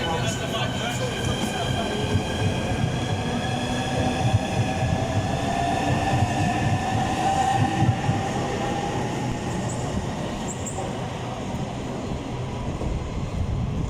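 A Southeastern Class 395 high-speed train runs through Stratford International on HS1, giving a steady, loud rolling rumble with a rising electric whine, while a voice is heard faintly underneath.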